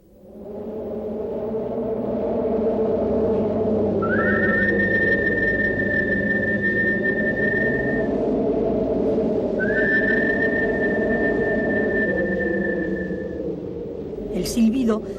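A person whistles two long, steady tones separated by a pause, over a constant low rumble of background noise.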